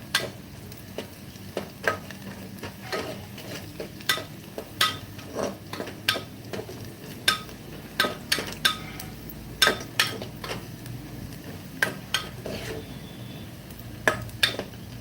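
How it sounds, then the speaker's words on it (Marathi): Onion sautés in a pan with a soft steady sizzle, broken by frequent sharp clinks and scrapes of the spoon against the pan at an uneven rhythm, close and with no voices. "कांदा आपल्याला जास्त लाल करायचा नाहीये थोडासा परतला ना की त्यामध्ये आपल्याला चिरलेले टोमॅटो टाकायचे"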